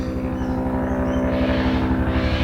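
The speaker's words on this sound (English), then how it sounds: "That chopper." A loud, steady aircraft engine drone with a rapid rhythmic chopping pulse, like a helicopter passing close overhead, with no talking.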